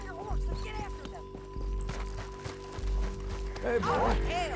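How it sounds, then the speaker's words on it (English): Horse hooves clatter in Red Dead Redemption 2 as riders set off in pursuit, rhythmic clip-clop bursts under a steady game soundtrack, with a voice talking over parts of it. "Back on your horse, let's get after them."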